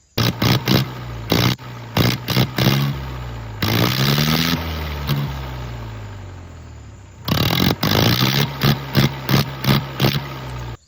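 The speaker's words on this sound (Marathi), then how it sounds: "ट्रॅक्टर सायलेन्सर काढून आवाज काढला" A loud tractor engine with its silencer removed revs in sharp, repeated bursts, with one long sustained roar in the middle, close by and harsh.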